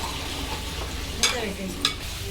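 Kaleja curry frying with chili powder being stirred in, a steady sizzle broken by two short scraping strokes of the spoon against the pan.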